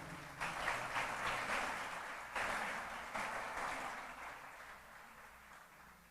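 A church congregation breaks into applause, a broad wash of clapping that swells in several waves before gradually thinning out, heard at moderate distance.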